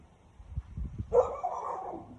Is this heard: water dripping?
no